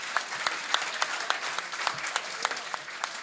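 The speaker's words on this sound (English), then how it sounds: "Round of applause, please" An audience claps for a contestant at a live quiz final held in a shopping mall, a brisk, even patter of many hands at moderate volume with no voices over it.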